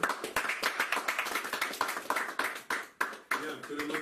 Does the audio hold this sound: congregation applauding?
yes